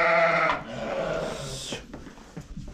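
Newborn lambs bleating in a barn, one loud, close bleat followed by a second drawn-out call, then quieter rustling and shuffling.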